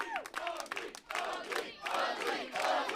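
A pro wrestling crowd in Portland cheers and yells for a wrestler, a loud surging mix of many shouting voices and whoops in an indoor arena.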